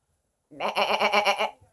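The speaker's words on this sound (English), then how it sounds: "listen to the goat, the glam goat" A goat bleats once, a close, wavering nasal cry lasting about a second that breaks out after silence.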